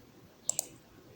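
Two quick, faint computer mouse clicks about a tenth of a second apart, close and isolated against quiet background.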